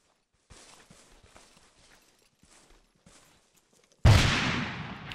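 Gunfire in the video game Bourbon Warfare: scattered distant shots crackle for a few seconds, then one loud, close blast erupts and rings out with a long decaying tail.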